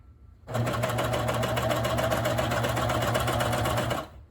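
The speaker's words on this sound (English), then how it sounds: "But as I sew, make sure my presser foot is down." A coverstitch sewing machine stitching over a bulky fabric area, starting abruptly and running in a steady, fast, loud mechanical whir for about three and a half seconds before stopping, close and alone.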